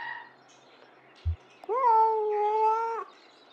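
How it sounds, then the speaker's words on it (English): A cat in the video game Kentucky Route Zero lets out one clear, drawn-out meow that holds steady for over a second, loud and close, preceded by a brief low thump in an otherwise quiet scene. "Alert meow. Cats being cats."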